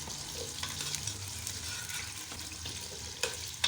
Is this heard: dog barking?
no